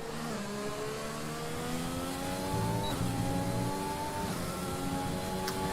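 Race car engine in a sim racing game at the Hungarian GP, revving up continuously with rising harmonics as it accelerates out onto a flying lap, steady and close with no talk over it.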